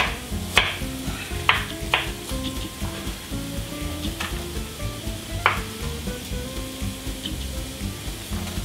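Chopped white onions sizzling steadily in a pan, with a few sharp clicks and scrapes of stirring, close and moderately loud with no talk.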